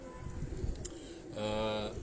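Pigeons kept in a rooftop cage by breeders in Defence, Karachi, cooing softly, with a louder, steadier burst of cooing near the end over a faint background murmur.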